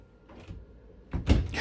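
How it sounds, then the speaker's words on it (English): Right-hand closet door in a 2025 Wildwood Grand Lodge 42FLDL camper being opened, a soft brief rubbing scrape followed by a louder, closer clunk and rattle as the door pulls free, with no talking. "you might look at that right-hand closet door, notice that it's going to kind of fight with the mattress"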